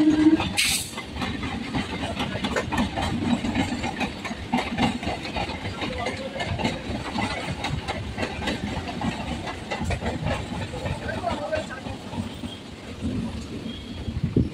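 A local train in Kolkata rolls slowly while changing tracks, with steady rumbling, rattling wheels and clicking over points heard from on board, continuous and moderately loud.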